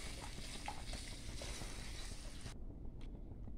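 Buttermilk being stirred constantly in a hot pan for dhokli curry, a close continuous scraping and sizzling wash that cuts off abruptly, leaving a few faint clinks.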